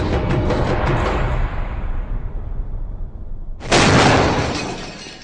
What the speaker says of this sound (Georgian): სადაც საჭიროა შენობის კარიც უნდა აფეთქდეს